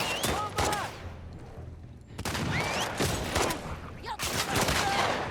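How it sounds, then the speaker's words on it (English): Bursts of video-game gunfire crackle in dense volleys, pausing briefly around the two-second mark before resuming loud and close, with frantic player talk mixed in. "who's shooting me?"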